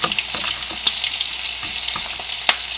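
Shrimp sizzle steadily in hot oil for a po boy, a dense bright crackle broken by sharper pops, close and continuous with no voices.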